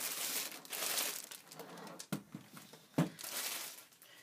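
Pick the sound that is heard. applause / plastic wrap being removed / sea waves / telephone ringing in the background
plastic wrap being removed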